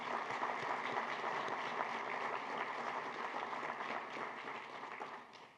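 A steady, sustained round of audience applause fills a ceremony hall for participating charter schools at a Purple Star award event, dense clapping holding level throughout before tapering off at the end.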